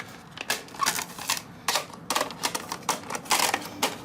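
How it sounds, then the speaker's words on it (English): A Canon Selphy CP1500 portable photo printer prints a photo, giving quiet, close mechanical clicks and whirring bursts that come in an irregular stuttering rhythm. "I only need to print this one last one for the demo."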